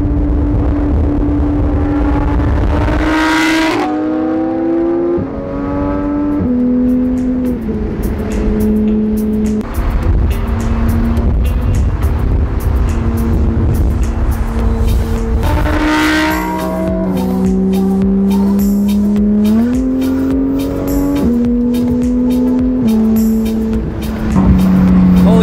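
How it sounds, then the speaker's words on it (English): A very loud Audi R8 V10 roars nearby while cruising, its engine note rising and falling through gear changes in a continuous, up-close drone. "Andrew's R is so loud. I honestly think that it's louder than a GT3, but holy shit, that sweet tone of the V10 is amazing."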